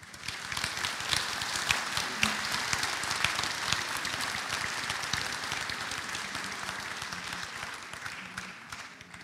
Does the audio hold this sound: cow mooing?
no